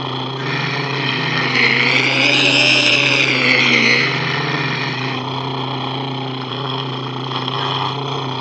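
A car engine loop, built as a game sound blended by speed in Wwise and Unity, hums steadily and loudly, its tone swelling and rising in pitch briefly before settling back.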